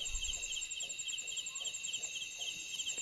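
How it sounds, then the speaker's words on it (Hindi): An unidentified bird calls at night in a forest with a steady, high, pulsing trill that runs unbroken through the whole stretch, moderately loud over faint background rustle. "ये बर्ड की आवाज़ है लेकिन मैं पहचानता नहीं हूँ।"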